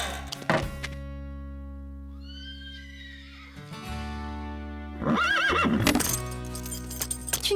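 Diablo, a spirited cartoon horse, gives a loud whinny near the start and again near the end. Hoof clip-clops and soft thuds fall in between, all over a steady background hum.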